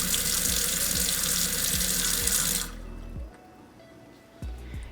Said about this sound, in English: ask Delta faucet to give me 1 cup of water